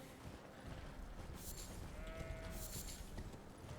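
Sheep bleating in the Elden Ring video game, a single drawn-out bleat rising midway over a steady bed of game ambience and wind noise.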